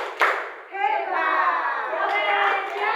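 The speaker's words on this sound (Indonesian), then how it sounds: "Teman-teman coba kasih ini tepuk hebat dulu dong buat Ibu Lia." A group of children claps the 'tepuk hebat' classroom clap routine, a dense burst of hand claps mixed with young voices chanting along, loud and close throughout.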